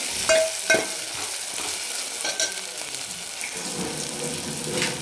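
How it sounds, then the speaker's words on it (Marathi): A green ginger-garlic-coriander paste sautés in hot oil for mutton rassa, a close, bright sizzle with occasional stirring scrapes and clinks, no voices. "हिरवं वाटण ते आपण टाकू त्याला पण एक मिनिटभर आपण याचा जरा कच्चेपणा जाईपर्यंत परतून घेणार आहेत तेलामध्ये"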